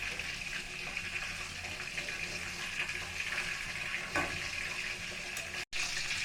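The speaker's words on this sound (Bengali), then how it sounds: "চিকেন চাপগুলো ভাজা হয়ে গেছে" Chicken chaap frying in a pan on medium heat gives off a constant, dense sizzle of hot oil, fairly close and unbroken apart from a brief cut near the end.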